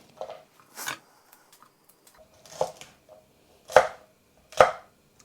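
A knife chops green chilies on a board for a lamb curry, giving about five crisp, separate knocks at an uneven pace, close and fairly loud against quiet.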